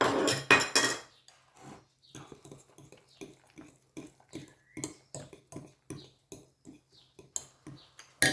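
Lemon zest being stirred into a bowl for a light dessert, a utensil clinking and scraping against the bowl in a steady run of short, close taps after a brief louder burst at the start.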